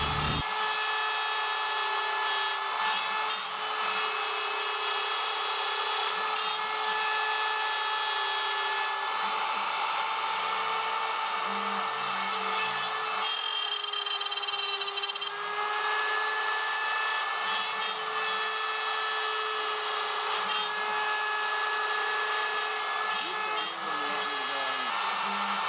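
A CNC router cuts a wooden tabletop with a continuous high-pitched whine and a steady machine drone throughout, with slight shifts in pitch as the bit moves and no one speaking.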